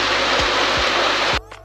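Heavy rain pours down in a rural village as a dense, steady roaring hiss with a few soft low thumps, cutting off abruptly just before the end.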